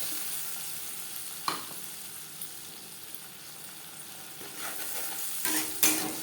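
A dried red chilli and whole cumin sizzle steadily in hot oil for a vegetarian kakrol malai curry, with a few sharp scrapes and a louder hissing burst near the end as the coconut and tomato paste goes in.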